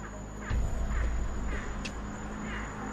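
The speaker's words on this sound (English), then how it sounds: "That's a bird now" A bird calls a few times in the distance, harsh caw-like notes over a low, steady outdoor rumble.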